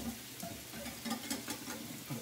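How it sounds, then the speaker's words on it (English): A spoon stirring and mixing a dry seasoning blend of onion powder in a bowl, with soft scraping and rustling strokes over a steady background hiss, close and moderately quiet, with no talking. "Just gonna mix this up."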